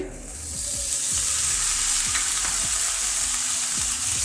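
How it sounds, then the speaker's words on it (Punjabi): Chopped tomatoes fry in a taro (arbi) curry masala with ajwain, a steady loud sizzle with occasional stirring scrapes of a spoon against the pan. "ਹੁਣ ਅਸੀਂ ਪਾ ਦਵਾਂਗੇ ਇਹਦੇ ਵਿੱਚ ਦੋ ਟਮਾਟਰ ਕੱਟੇ ਹੋਏ"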